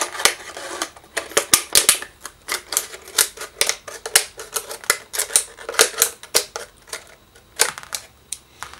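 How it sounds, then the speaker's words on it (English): A plastic bottle being cut to make a wasp trap: a rapid series of sharp, crisp snips and crackles of plastic close by, irregular bursts that pause briefly and continue, with no talking. "And we're just going to go ahead and cut the bottle."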